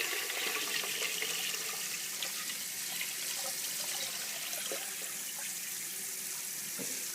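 Steady rush of tap water pouring into a home water distiller container, loud and continuous throughout with no voices.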